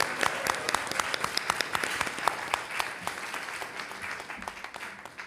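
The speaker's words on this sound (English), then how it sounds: "Round of applause for yourselves, please." Live community forum audience applauding themselves, a close, lively burst of many hands with distinct individual claps, steady then gradually thinning toward the end.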